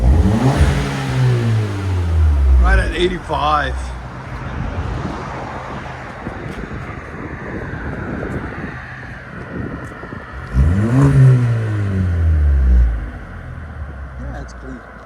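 A 2013 Ford Fusion with the 1.6L EcoBoost and a muffler-delete exhaust revs hard twice, each burst rising sharply in pitch and then falling away, separated by a stretch of steady idle. Someone speaks briefly between the revs.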